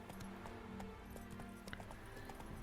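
Roach the horse gallops in The Witcher 3: Wild Hunt, a quiet, fast and steady clip-clop of hooves at a moderate distance over low background game ambience, with no talking.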